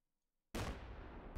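A sniper rifle shot in a ranked video game match cracks out suddenly after silence, one loud close blast with a sustained roaring tail that fills the rest of the moment.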